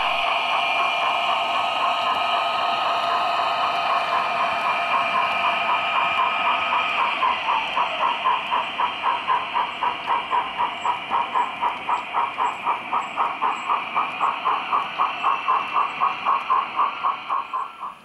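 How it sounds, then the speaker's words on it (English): A sound-fitted Class 73 electro-diesel model locomotive, E6003, restarts its train across a model railway junction with a steady engine drone, and a rhythmic clicking of wheels over rail joints gradually picks up pace. No one speaks. "sound-fitted Class 73 electro-diesel E6003 restarts its train as it heads across the junction"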